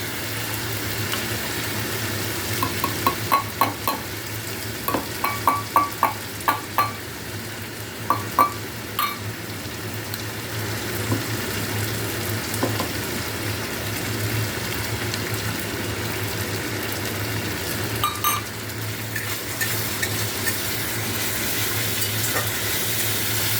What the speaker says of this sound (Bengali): বেশ ভালো রকম ভাজা হচ্ছে আর খুব ভালো একটা গন্ধ উঠছে।